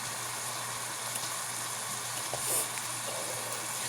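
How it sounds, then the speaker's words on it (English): White onion and ground beef browning in a pan for fideo with potatoes, a faint, even, steady sizzle with a low hum underneath and only slight stirring movement. "I'm browning that up with the ground beef"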